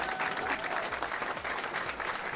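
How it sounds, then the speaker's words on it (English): Audience applause at a political event welcoming a Democratic candidate, dense and even clapping from a crowd sustained throughout, fairly close and full, with no one speaking over it. "A round of applause"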